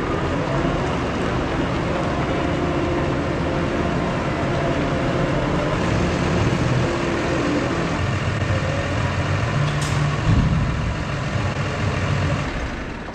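A truck idles and rumbles steadily as it is parked next to a trailer outdoors, a constant loud engine drone with a brief clank near the end and no talk.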